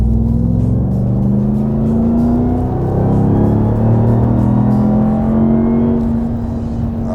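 A 2021 RAM TRX Launch Edition pickup accelerates hard from inside the cab, its engine roaring loudly with a rising, sustained drone as the revs climb and shift, steady and close throughout with no talking.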